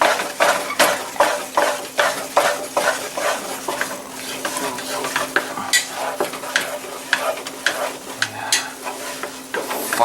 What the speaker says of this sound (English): Start stirring.